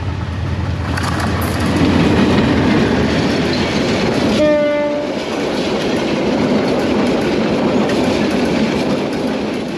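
A train runs on rails near Sylhet, Bangladesh: a loud, steady rumble of wheels and cars continues throughout, with a brief horn blast near the middle.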